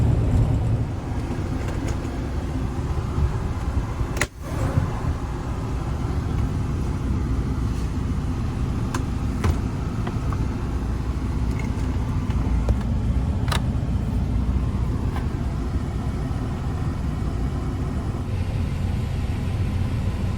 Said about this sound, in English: letting the truck wind down while I unload here